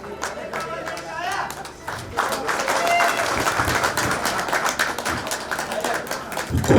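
Clapping from a crowd of staff at a transport depot workers' gathering in Bhiwandi, honouring Mohan Tare; scattered claps build into steady, fairly loud applause under a busy room with voices mixed in.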